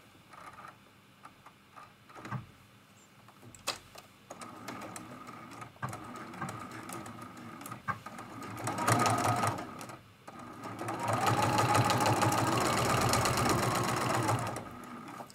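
A sewing machine quilts a lamp post art quilt in bursts of rapid stitching, each run stopping and restarting and growing louder and denser towards the end, with no talk over it.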